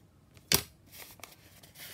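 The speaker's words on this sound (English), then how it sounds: "trim off the edge there" Scissors trimming the edge of a paper page for a handmade junk journal: one sharp, close snip, then soft scattered paper rustles and small cuts.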